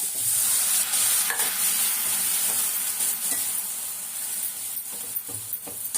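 Steady, loud sizzling from a pan of garlic curry after water is added, with a continuous hiss and occasional stirring scrapes. Nobody speaks.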